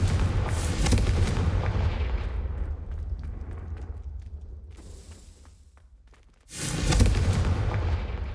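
A Confringo fire-blast spell explodes in Hogwarts Legacy, a loud boom that rolls off into a long fading rumble, followed after a brief lull by a second heavy blast.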